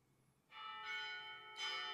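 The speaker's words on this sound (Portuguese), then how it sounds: "Nesse momento a gente está ouvindo sinos da igreja" Church bells ring out in Geneva, Switzerland, entering after a half-second of low hush and holding as a loud, resonant chime that swells again near the end, with no voices.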